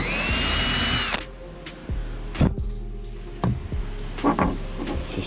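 A power drill bores mounting holes for a Rhodan 24V 80 lb thrust trolling motor, a loud whine for about a second that stops abruptly, followed by quieter clunks and handling knocks.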